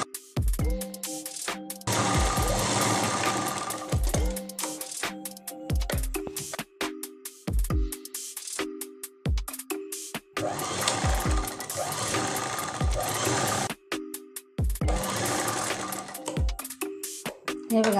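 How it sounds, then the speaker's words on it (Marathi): Sewing machine stitching a lined katori blouse, running in several bursts of fast whirring stitches separated by pauses filled with small clicks and handling noises, fairly close and alone. "शिवताना घाई नाही करायची"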